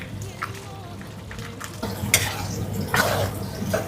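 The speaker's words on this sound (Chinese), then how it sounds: "虾倒进去，翻炒。" Crayfish stir-fried in a wok with onion, ginger, scallion and garlic in oil: steady sizzling with scraping and clattering from the spatula as the shells are tossed, growing busier toward the end.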